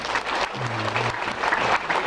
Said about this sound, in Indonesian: saya minta tepuk tangan yang meriah untuk warga yang datang